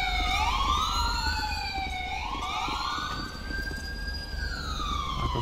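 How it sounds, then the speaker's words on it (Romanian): Ambulance sirens in GTA 5 wail loudly with rising and falling sweeps, several overlapping tones rolling together over a low engine rumble as the vehicles close in, with no talking. "Hai că vin și ambulanțele acum."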